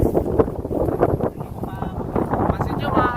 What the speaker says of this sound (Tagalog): naririnig nyo ba yung hangin? Sa sobrang lakas ng hangin.